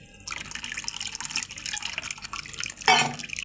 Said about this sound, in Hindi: ठंडा पानी मैं इसमें शामिल कर दिया